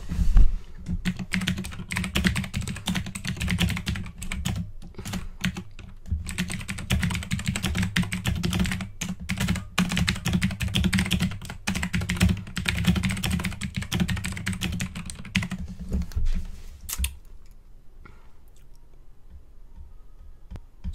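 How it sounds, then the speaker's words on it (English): Someone types rapidly on a computer keyboard in a steady clatter of close, dense key clicks lasting most of the time, then it stops and goes nearly quiet, with no talking. "So I just typed that, he's now typing no."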